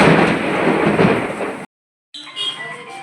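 Heavy rain with rumbling thunder during an unseasonal early-May storm, loud and dense, breaking off abruptly and then resuming as a softer patter.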